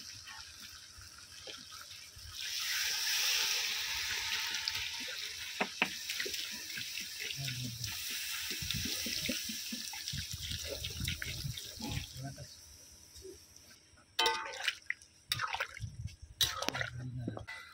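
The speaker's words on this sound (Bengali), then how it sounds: "এবারে আমি দিয়ে দেবো জল" Water pours steadily into a pot of mutton and potato curry for several seconds with a close, rushing splash, followed by a few clattering knocks as it stops.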